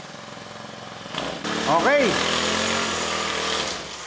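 A North Cotabato backpack grass cutter's small engine starts up partway through and runs on with a steady, buzzing roar, close by, with a brief spoken word over it.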